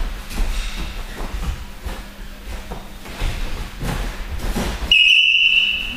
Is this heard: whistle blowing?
yes